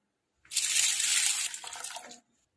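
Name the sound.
rinsing chana dal in water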